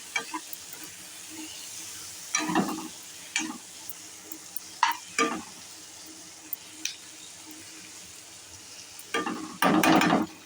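Prawns fry with onions in a pan for a Telugu brinjal and prawn curry, a soft continuous sizzle broken by several loud scraping stirs of a spoon against the pan, with the longest burst at the end.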